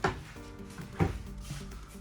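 Drawers in a Riverstone Legacy 442MC fifth-wheel RV slide and thump, two quiet close knocks about a second apart with faint sliding in between.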